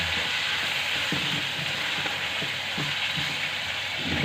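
Chicken being bhuna-fried in a karahi: a loud, constant sizzling hiss runs throughout, with faint rattling and clicking from stirring underneath.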